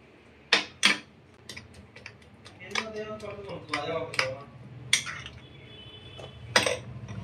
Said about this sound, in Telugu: అన్నీ కలిసేలా మిక్స్ చేసుకోండి